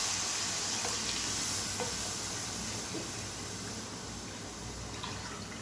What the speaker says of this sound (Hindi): अब मैं इसमें तकरीबन 3 गिलास पानी शामिल करूंगी।